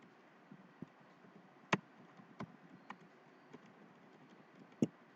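Quiet, sparse keystrokes on a computer keyboard, a few scattered sharp clicks over a faint background with irregular pauses between them.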